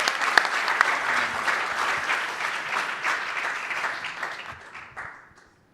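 A conference audience at EU Space Days 2026 on the main stage applauds a panel with dense, steady clapping throughout that fades out at the end, loud and without talk.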